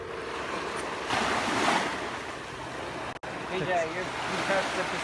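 Pacific Ocean waves break on a cold shore near Seattle, with a continuous washing roar that swells and recedes under gusty wind on the microphone, while people talk nearby.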